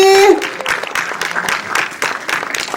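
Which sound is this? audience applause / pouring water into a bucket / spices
audience applause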